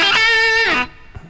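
Distorted electric guitar playing the opening of a song: a single loud, sustained, gritty chord with rich overtones that bends downward and cuts off after under a second, played alone.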